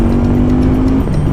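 An FKM Coolser 500 mid-size cruiser motorcycle engine runs close and loud with a strong, steady, throaty roar and a slight shift in pitch.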